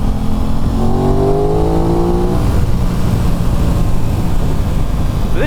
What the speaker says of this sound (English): Alright, gotta see if I can find a bit of room to do a 0 to 60 run